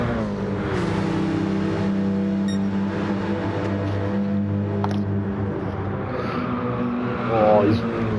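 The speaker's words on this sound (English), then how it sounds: "Oh, you can hear the tyres screeching from both cars." German touring cars race at Suzuka in a video game, their engines droning steadily while tyres squeal and scrub through corners.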